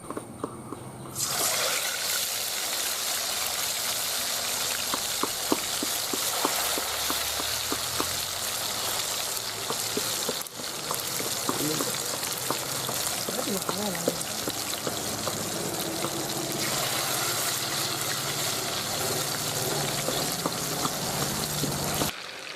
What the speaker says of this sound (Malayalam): അപ്പോൾ നമുക്ക് മീൻ ചൂടായി നിൽക്കുന്ന എണ്ണയിലേക്ക് ഇട്ട് പൊരിച്ചെടുക്കാം.